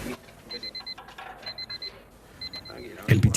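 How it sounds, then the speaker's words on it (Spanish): A digital alarm clock beeps in quick repeating bursts of several high tones, fairly faint, ending in a louder rustling thud. "Empezamos a escuchar un ruido de despertador."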